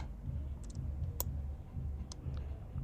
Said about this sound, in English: clicking R on my keyboard again